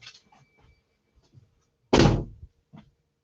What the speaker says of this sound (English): I gotta shut the door here.